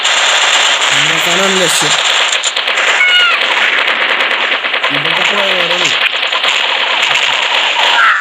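Rapid gunfire and explosions from the Mini Militia mobile shooter game crackle in dense, continuous bursts, loud and close, with someone speaking over the battle now and then.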